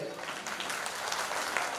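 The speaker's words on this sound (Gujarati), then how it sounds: "સંજયભાઈ માટે જોરદાર તાળીઓ થઈ જાય" Applause from a crowd at a Gujarati devotional dhun gathering in Surat, marking a memorial anniversary for Jivraj Bapu: dense, continuous clapping at moderate distance, with some voices faintly mixed in.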